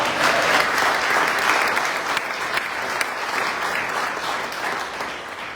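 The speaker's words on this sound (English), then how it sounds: "You can applaud that." An audience at a Virginia political speech breaks into loud, sustained applause, a dense wash of clapping that stays strong throughout and fades slightly toward the end, with no speech over it.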